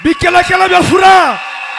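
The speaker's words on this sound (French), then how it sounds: "Poussons d'abord les cris de joie." A church congregation at a tabernacle worship service in Lubumbashi shouting cries of joy, loud whooping and yelling voices rising and falling in a short burst, then fading into crowd murmur.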